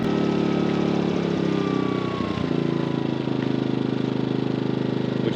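MaxPeedingRods 3200 watt inverter generator running steadily at low idle, a close, even mid-pitched engine hum with a slight rhythmic chug and no talking.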